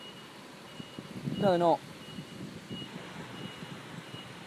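A brief burst of reversing beeps near a level crossing, fairly distant against wind and outdoor background, with people talking nearby.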